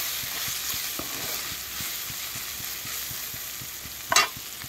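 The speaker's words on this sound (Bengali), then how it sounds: "আৰু অকণমান চয়া চচ। ধুনকৈ ভাজি ল'ম।" Ingredients fry in a pan with a splash of soy sauce, giving a steady close sizzle. Regular light stirring clicks run through it, and a brief louder scrape comes near the end.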